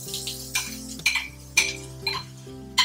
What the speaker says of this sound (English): when the pan is hot, add in your onion and your garlic